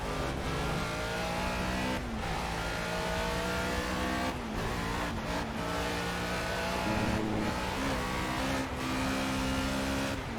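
A race car engine in a video game revs continuously and loudly, droning and shifting pitch with brief dips, with tires squealing at moments.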